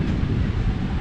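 Large sea waves break and roar on the shore by the Somnath temple in Gujarat, a loud, steady wash of surf with gusty wind buffeting the microphone and no voices.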